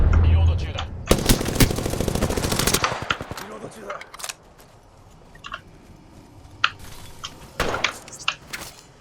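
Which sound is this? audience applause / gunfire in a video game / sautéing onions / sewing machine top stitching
gunfire in a video game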